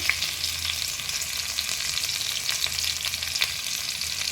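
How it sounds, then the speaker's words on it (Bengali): Chopped onion with black mustard seeds frying in hot oil for poha: a steady close sizzle with scattered crackles and pops, with no talking. "এবার আমি এটা ভেজে নেব একটু"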